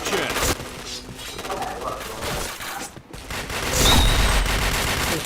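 Bursts of gunfire in the shooting game Point Blank, rapid repeated shots swelling louder toward the end, with game sounds mixed in and a voice talking faintly underneath.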